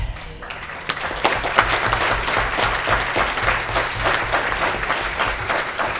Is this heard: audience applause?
yes